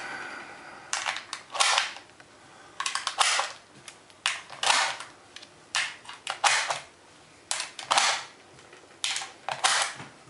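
Hollow-point rounds being loaded one after another into a rifle drum magazine, a close, quiet run of sharp metallic clicks and snaps in irregular bursts, each cartridge seated with a crisp clack between short pauses.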